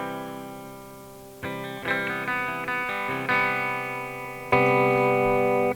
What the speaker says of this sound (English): here we have the guitar clean, just through the amp, bit of reverb